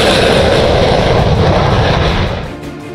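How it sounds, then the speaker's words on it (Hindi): A Sukhoi Su-30 MKI fighter jet at Tezpur Air Force Station in Assam gives off a loud, broad engine roar that rumbles steadily and fades slightly toward the end. "राष्ट्रपति द्रौपदी मुर्मू ने असम के तेजपुर एयरफोर्स स्टेशन से सुखोई 30 MKI फाइटर जेट में ऐतिहासिक उड़ान"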